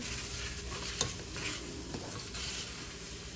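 Shrimp scampi is stirred in a hot pan, a continuous sizzle with soft scraping and a few utensil clinks against the pan, close and steady throughout with no talking.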